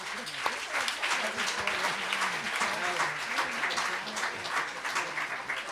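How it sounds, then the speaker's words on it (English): Audience in a debate chamber at an education forum applauding the speakers, steady dense clapping at moderate volume lasting several seconds, with a voice talking over it. "Give them a big round of applause."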